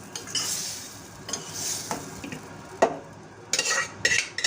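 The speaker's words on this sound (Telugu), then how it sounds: "ఇప్పుడు వేసేసి కలపాలి" A frying lentil and amaranth mixture stirred in a pan, soft sizzle with intermittent scraping and clinks of a spoon against the metal, close and moderate, without speech.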